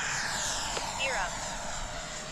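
An 80mm T-7A RC model jet flies by, its ducted-fan whine rising and falling with a quick pitch sweep as it passes, while a voice talks over it.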